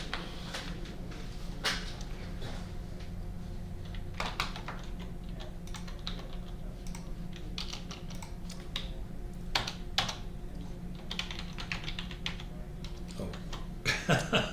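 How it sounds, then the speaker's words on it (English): Two people type on computer keyboards, a steady patter of key clicks with occasional bursts, fairly close and continuing throughout, with faint talk in the background. "Are we both typing?"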